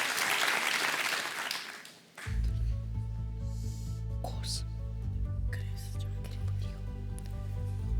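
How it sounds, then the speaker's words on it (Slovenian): Applause for a primary school team on a televised quiz show rises in a short burst of clapping and cheering, then gives way to a sustained musical tone with light noise over it. "En aplavz za vijoličaste"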